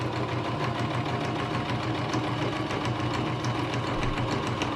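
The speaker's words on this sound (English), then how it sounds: "So I'm just going to sew a few forward lines, and then a back, and then forward again." A sewing machine stitches curtain fabric for homemade solar curtains, running forward, backward and forward again. It makes a steady, close mechanical whirring hum with a fast rattling rhythm that continues throughout with no talk.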